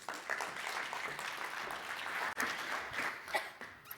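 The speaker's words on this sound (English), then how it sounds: "Let's give Leon a big round of applause, please." A crowd at a business banking conference claps steadily in dense, even applause, briefly cutting out and then resuming with a few louder claps near the end.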